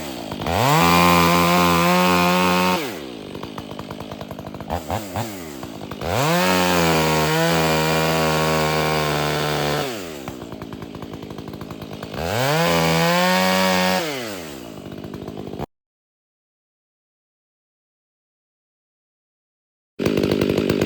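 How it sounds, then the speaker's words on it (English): A loud Stihl 500i chainsaw revs and bites into firewood in three long cutting passes, the engine pitch dipping and rising under load, then a sudden silence. "It's just gonna be quick chainsaw footage."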